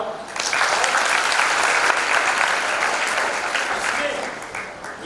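An audience at a death-anniversary tribute gathering breaks into steady, dense clapping that swells quickly, holds for several seconds and tapers off slightly, close and loud.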